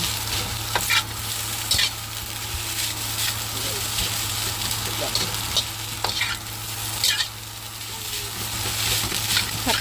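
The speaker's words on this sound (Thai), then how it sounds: "อันนี้นะผัดข้าวนะ ผัดข้าวนิดหน่อย ไม่มีอะไรเลยนะมีแต่ซุปซอสเกลือ" Rice stir-fried in a pan with soup and soy sauce gives a continuous close sizzle broken by repeated scraping strokes of the spatula, while a low steady hum runs beneath.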